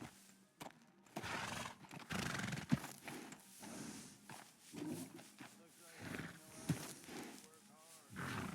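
Within Red Dead Redemption 2, a horse's neighs and a few hoof sounds come faintly through near-constant conversation between characters.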